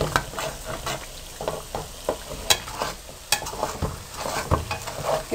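Raw semolina for makhadi halwa roasting in a karahi while being stirred continuously, a steady sizzle with regular scraping strokes and occasional sharp metallic clinks, close and alone without speech.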